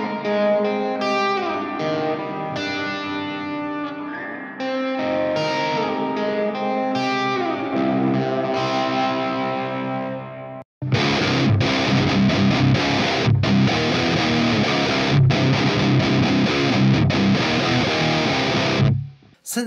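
A guitar run through an Amped plugin amp simulator plays a clean, ringing passage on the Nude Clean amp model, then after a brief gap cuts to a dense, loud distorted tone on the Double J Dirty model.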